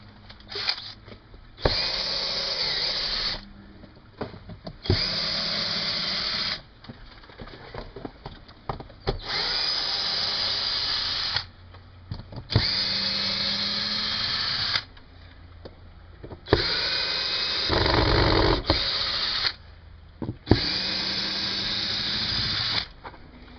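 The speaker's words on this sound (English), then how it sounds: "it's a good idea to use a drill instead of having to hand unscrew them" A power drill whirs in repeated bursts of a couple of seconds each, removing long Phillips-head screws from window shutters, with short pauses and faint clicks and handling noise between runs.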